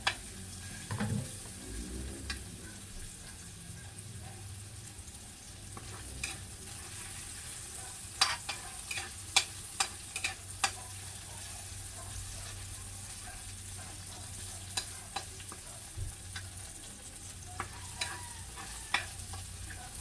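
Garlic and tomato sauté in a pan for a vegetable dish, a soft steady sizzle underneath with intermittent utensil clicks and taps against the pan.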